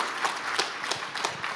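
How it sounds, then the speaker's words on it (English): Applause from a summit audience for a co-producer, a dense but fairly quiet patter of many hands with a few louder, sharper claps poking through, no voices over it. "please give a big round of applause for my co-producer, Lauren Trantham."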